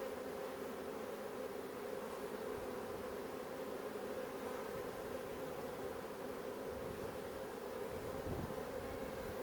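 Honey bees buzz around an open hive during an autumn inspection in Australia, a steady, faint hum of many insects droning continuously with no voices.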